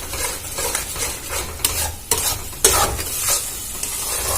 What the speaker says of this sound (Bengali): দিয়ে আবারও ভালো করে নাড়াচাড়া করে ভেজে নেব।